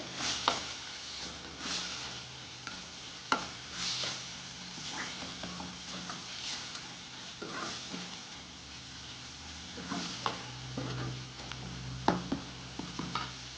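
Spice powder being stirred into fenugreek leaves and okra in a pan, with soft scraping strokes and faint sizzling running steadily throughout, plus occasional sharper clinks of the spoon.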